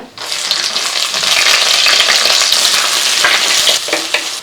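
Chopped large onions hit hot groundnut oil and fry with a loud, steady sizzle, stirred now and then, filling the clip close-up without any talk.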